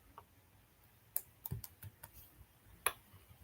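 Code being typed on a computer keyboard: a sparse run of quiet, sharp key clicks in small irregular bursts, near and alone in a hushed room.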